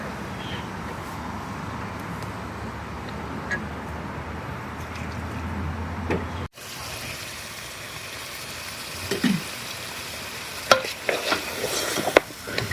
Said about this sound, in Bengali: প্রথমে তেল দিয়ে লবণ দিয়ে খাসির মাংসটাকে একটু করা হয়, ভাজা ভাজা করা হয়, ভুনা ভুনা।